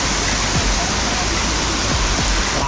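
Steady roaring rush of a monsoon waterfall on the Harishchandragad trek in Maharashtra, loud and continuous, with a faint voice beneath the noise.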